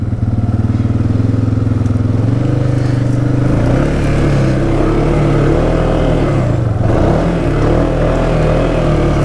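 A Can-Am Outlander 700 ATV engine labours up rough, slippery terrain in four-wheel drive, a loud, close, continuous drone that rises and falls in pitch as the throttle shifts, with faint clatter from the chassis.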